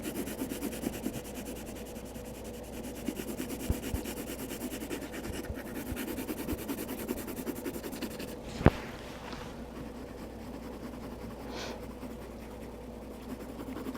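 A pencil shades on paper in steady, soft scratching strokes up close, with a few sharper taps and pauses, and nobody speaks.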